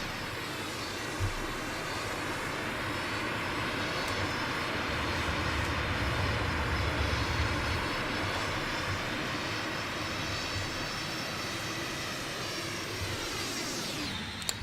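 The engine of a North American P-51 Mustang in Flight Simulator X roars as a loud, steady, continuous propeller drone with a rumbling low end throughout, with no talking.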